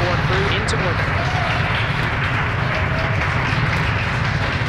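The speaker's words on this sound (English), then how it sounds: "We hear the applause here in Hawthorne" Applause and cheering from a crowd of SpaceX employees at Hawthorne after the Falcon 9 second stage delivers the Crew-2 astronauts to orbit, a steady, dense wash of clapping heard at a distance.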